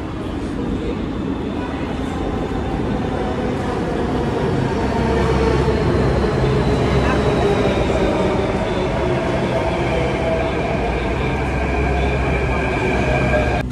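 A Delhi metro train heading to Connaught Place rumbles along steadily with a low droning hum and rising whine, loud and close as if heard from inside a carriage, with murmured talk underneath.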